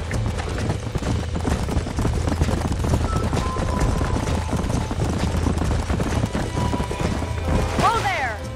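Horses' hooves clip-clop steadily in the Red Dead Redemption video game on a ranch, under continuous game ambience and background noise, with a whinny-like sweep near the end.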